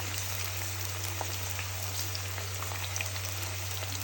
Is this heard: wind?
no